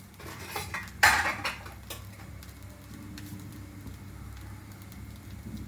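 Fried rice being stirred with garam masala in a pan, with a loud burst of metal utensil scraping and clanking against the pan early on, then softer steady stirring and a faint low sizzle beneath.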